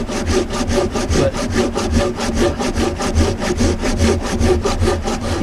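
A hand saw rasps through hard oak firewood in steady back-and-forth strokes, loud and close, about four strokes per second. A single word is spoken briefly.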